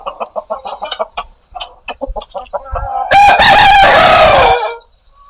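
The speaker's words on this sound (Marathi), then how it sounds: "हे पहा कोंबडे आणि कोंबड्या" Desi roosters and hens on a country-chicken poultry farm: a rapid series of close clucks, then a loud rooster crow that holds for over a second before fading into quiet.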